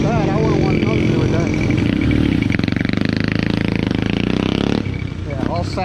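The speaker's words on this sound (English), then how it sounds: "They make their motorcycles real loud." A loud motorcycle engine revs hard and continuously on a street, its rough, throaty roar swelling and holding before dropping off briefly near the end, with faint talk under it.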